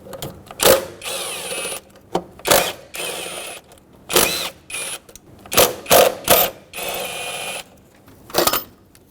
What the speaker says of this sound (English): with a 10mm socket, remove the 4 bolts holding this throttle body onto the intake